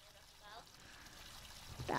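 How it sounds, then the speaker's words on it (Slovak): An icy cold shower runs with a steady, hissing spray of water, continuing alongside a voice as he speaks over it. "Tak, osprchujem. Jaj, to je ľadové."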